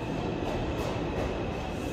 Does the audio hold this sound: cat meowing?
no